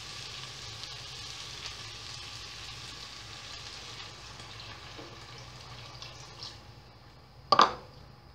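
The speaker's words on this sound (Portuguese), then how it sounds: "Vou deixar fritar, dar uma fritadinha." Chicken frying in a pan for a chicken and okra dish, a steady soft sizzle running throughout, ending with a sharp brief clatter near the end; no speech.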